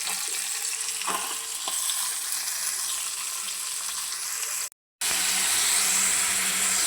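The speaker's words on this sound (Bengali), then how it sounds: "মাছগুলি বাইজে নিতেছি" Loud, continuous sizzling of fish frying in hot oil, a dense crackling hiss with a brief dropout before it resumes just as strongly.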